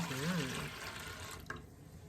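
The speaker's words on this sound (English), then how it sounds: "Then we're going to pour our 3 cups of warm water onto the yeast" Warm water pours steadily into a food-grade container onto yeast for bread dough, a continuous close splashing rush that fades slightly toward the end.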